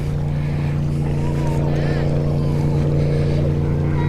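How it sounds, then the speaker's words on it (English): A speedboat with a strong, steady engine drone passing by on a lagoon, the low hum loud and sustained, with voices talking faintly over it. "Good sounding speedboat coming."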